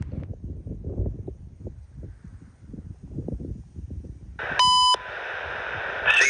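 Quiet rustling outdoors trackside gives way to a loud electronic tone and steady beep from a CN railway defect detector, followed by a brighter synthetic buzz that continues to the end.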